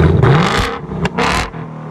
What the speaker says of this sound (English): This is with the active exhaust open.